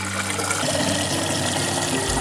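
Water is poured into a Coleman 9-cup aluminum coffee percolator, making a steady, continuous rushing and splashing sound that runs close and fairly loud throughout, with no talking.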